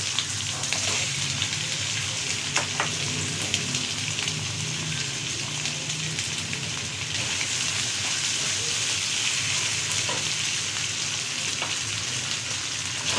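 Tomatoes go into a fish curry masala for a Sindhi fish salan, setting off a loud, steady sizzle in hot oil that runs continuously with faint stirring scrapes and no voices.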